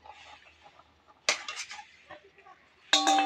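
A utensil stirs a vegetable curry with ghee in a metal pan, giving scraping and clinking strokes that come in bursts, with a sharper metallic clatter near the end.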